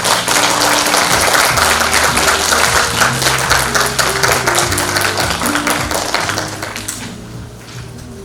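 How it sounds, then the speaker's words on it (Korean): An audience applauds at a suicide prevention policy symposium, with dense sustained clapping that thins and fades toward the end. "박수로 모시겠습니다."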